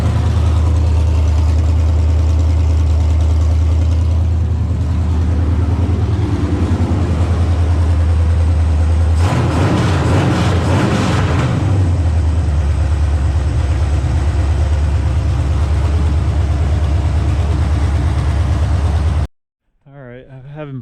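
A GMC Yukon XL Quadrasteer engine with open headers idles loud and close, a heavy, steady low rumble that swells briefly in the middle before cutting out near the end.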